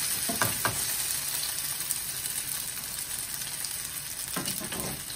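Potato and chicken patties, potatoes with skins left on, fry in a pan with a loud, steady sizzle throughout, the hiss occasionally rising as they brown.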